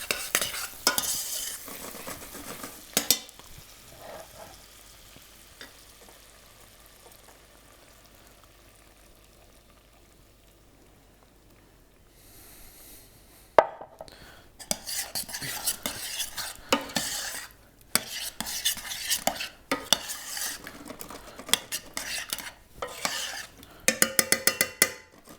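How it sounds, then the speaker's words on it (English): Caramelised cauliflower in a pan is stirred with a utensil, first quietly for several seconds, then louder bursts of scraping and bubbling as it simmers gently, with clinks against the pan. "You just want it on a real gentle simmer to cook out the rest of that cauliflower"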